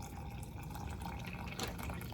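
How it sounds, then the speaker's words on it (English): Cooled pickle brine is poured into a jar, a steady close gurgling splash of liquid that runs continuously, with a brief brighter splash partway through. "I am just going to pour it in until"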